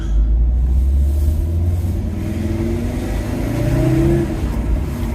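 A Fiat Coupe engine hums steadily while driving, slightly tappety, its pitch rising and falling as it accelerates and shifts, loud and close with continuous road rumble.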